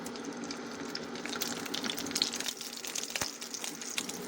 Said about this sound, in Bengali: তেলটা গরম করে নিছি, এখন আমি বড়াটি তেলটার মধ্যে দিয়ে দেবো।